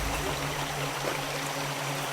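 Cipamingkis river flowing over rocks, a steady broadband rush of water with a low constant hum beneath, continuous and fairly close, no voices.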